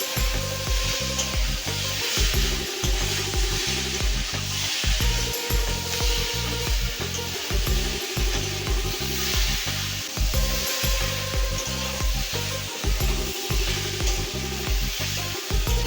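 Fried prawns stirred together with jackfruit in a pan, with a steady sizzle and repeated scraping and stirring strokes at a regular rhythm, close and loud, with no talking.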